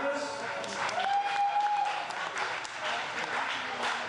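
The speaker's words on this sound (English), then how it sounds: "Give him an applause, please." Audience applause at a political fundraiser honoring a congressional candidate, a steady wash of clapping lasting several seconds with a faint tone and some voices mixed in.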